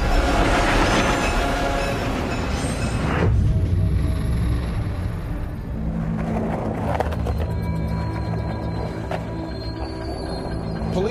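A freight train rolling on rails near Portland's Central Train Yard, a loud continuous rumble with clattering wheels, then metallic squeals and rattles as the cars roll past close by.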